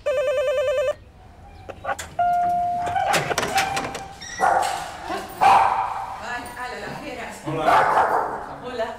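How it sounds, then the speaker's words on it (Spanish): Three dogs bark and yap at the front door of a house in Coslada near Madrid, loud and close, in scattered bursts after a brief electronic ringing tone, with commotion around them. "Sus tres perros nos reciben en la puerta de casa."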